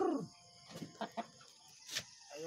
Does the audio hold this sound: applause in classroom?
no